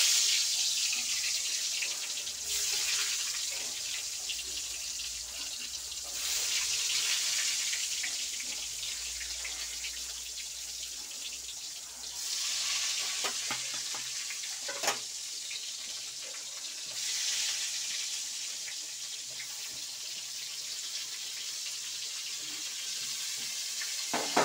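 Salted, turmeric-rubbed eggplant slices fry gently in oil, giving a steady broad hiss that swells and eases in sections, close by and with no speech.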